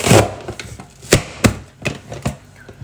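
An onion is sliced on a cutting board, with about half a dozen sharp, irregular knife chops landing near and clear, with no talking.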